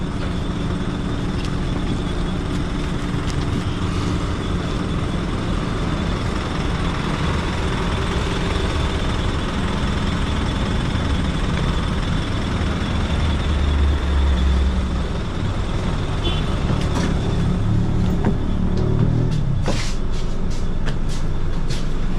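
Steady engine drone and road rumble heard from inside a moving bus in Padang, continuous and fairly loud, with occasional rattles and clunks and no talking.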